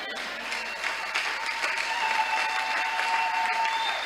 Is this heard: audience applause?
yes